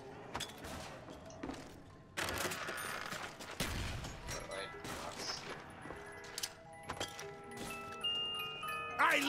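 Rapid gunfire in Call of Duty: Black Ops Zombies on the Kino der Toten map, bursts of shots mixed with game crashes, chimes and effects, loud and close, with a voice talking in places.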